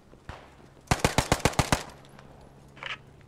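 Close, sharp burst of about seven rapid gunshots in the World War II shooter Post Scriptum, evenly spaced and loud, with a fainter shot before and a brief distant crack afterward.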